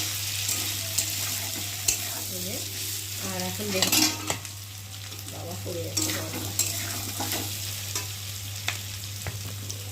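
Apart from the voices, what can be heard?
potatoes frying with spices in a pan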